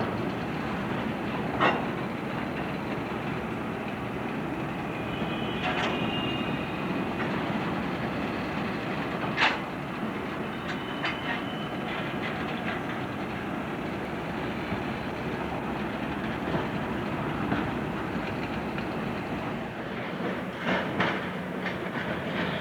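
Rail cars rolling through a hump classification yard, a steady broad rumble of wheels with faint clicks and occasional brief high squeals scattered throughout, distant and continuous with no voices.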